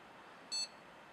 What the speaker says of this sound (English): We got a little beep, one beep.